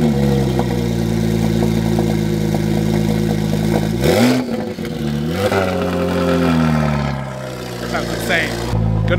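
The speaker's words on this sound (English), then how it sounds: "Porsche sounds wild. Hope you can hear me over this" A Porsche sports car engine idles with a loud deep rumble, then blips sharply through rising and falling revs, close by, with a person talking over it.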